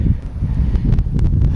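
Strong wind roars and buffets steadily on a trail at Mount St. Helens, a dense low rumble with gusty surges and no voices.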